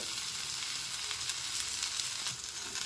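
Chopped green chilies and onions fry together in a pan, making a continuous, fairly quiet sizzle with faint stirring clicks and no speech.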